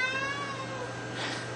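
A cat gives one drawn-out, wavering meow close by, starting loud and tapering off over a low steady background hum.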